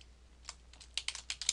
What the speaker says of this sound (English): Then I can type in